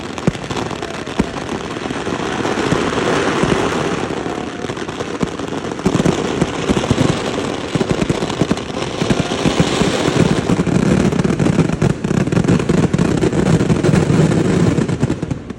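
Fireworks at the Paramekkavu Vela festival in Thrissur crackle in a dense, continuous barrage of rapid bangs and pops, loud and close, forming an unbroken roar with no pauses.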